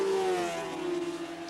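A 600cc Honda supersport motorcycle from the late 1980s races past, its engine note a steady high-pitched whine that drifts slightly downward, loud and close with no talk over it.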